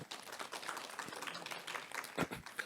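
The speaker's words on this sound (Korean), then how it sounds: "다시 한번 박수 부탁드리겠습니다" Audience applause at a Gyeonggi Province social value forum: a quiet, continuous wash of clapping from the room, fairly distant and even, with no voices over it.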